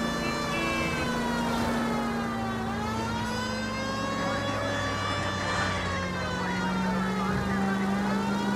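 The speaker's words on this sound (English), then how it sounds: "We've got a siren for a reason," A police car siren from the video game L.A. Noire wails continuously and loudly, its pitch sweeping up and down over steady engine rumble.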